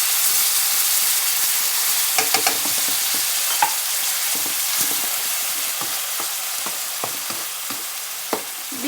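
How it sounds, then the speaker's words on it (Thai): Canned fish and garlic are dry stir-fried in a pan, giving a steady close sizzle with scattered clicks and scrapes from stirring, and no talking. "แบบคั่วแห้งๆเจียวพอกระเทียมหอมๆค่ะ ใส่ปลากระป๋องไปเลยค่ะ"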